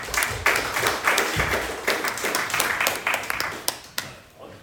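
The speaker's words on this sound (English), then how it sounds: "give a round of applause for Nathan" An audience at a conference talk applauds with scattered, uneven claps that gradually thin out and taper off.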